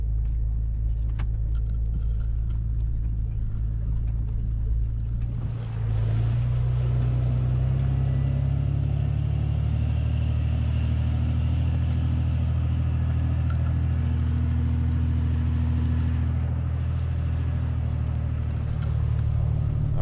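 Jeep Cherokee XJ grinding up a steep off-road trail in two-wheel drive, a low engine drone that deepens and strengthens after a few seconds and holds as a heavy, continuous rumble.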